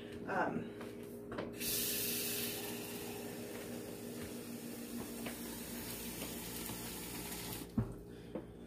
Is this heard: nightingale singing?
no